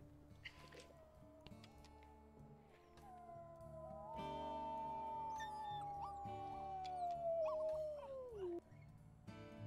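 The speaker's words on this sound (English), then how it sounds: "Was that one of the pup howls?" Young wolf pups in the WolfQuest video game let out a long, wavering howl that slides gradually downward, rising over softer background yips and game ambience, fairly close and clear without talk.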